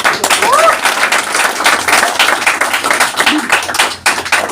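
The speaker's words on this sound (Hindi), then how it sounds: "एक जबरदस्त तालियां" A large audience claps loudly and steadily in a hall in response to a motivational speaker, the applause continuous for several seconds with a voice briefly rising over it.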